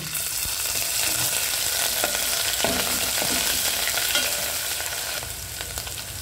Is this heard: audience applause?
no